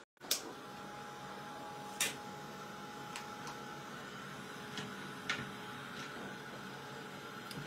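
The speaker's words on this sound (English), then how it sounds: "I'm going to hit that with the heat gun quickly." A heat gun dries distress paint on paper craft tags, giving a steady close whirring blow that runs throughout, with a few sharp clicks; no one speaks.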